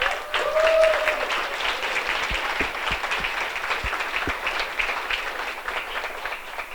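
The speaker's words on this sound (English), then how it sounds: "I'd just like to give an incredible round of applause to Sarah." Audience applause at a community gathering, steady clapping from a room of people with a few sharper individual claps standing out, fairly close and continuous throughout.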